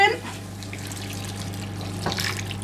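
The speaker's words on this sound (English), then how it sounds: "So 200 mils of chicken stock to go in." Chicken stock poured from a jug into a cooking pot in a home kitchen, a steady liquid pour and trickle over a low background hum, close and moderately loud.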